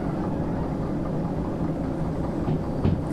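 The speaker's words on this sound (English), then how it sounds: "Really slow the train down." Train rumbling along steadily in the Derail Valley simulator game, a continuous low mechanical roll of wheels and engine heard close and loud throughout, with no talking.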